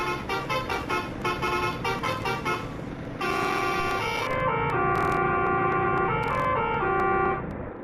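Bus horn in a bus simulator game with a custom telolet horn mod: a run of quick stuttering melodic toots, then a longer sustained multi-tone musical horn phrase, loud and clean with no voices.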